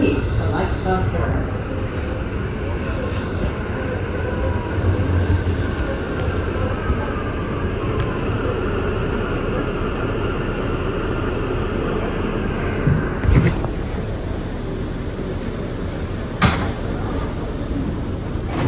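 An MTA R179 subway train on the Rockaway Shuttle in New York rumbles steadily throughout, with door and rail sounds breaking through near the end and speech over the top.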